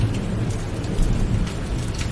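A thunderstorm rages outside, with dense, steady rainfall and low rolling thunder rumbling continuously underneath, loud and enveloping with no voices.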